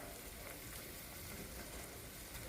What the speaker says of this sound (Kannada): ಇದನ್ನು ಹೈ ಫ್ಲೇಮಲ್ಲೇ ಫ್ರೈ ಮಾಡ್ಕೋಬೋದು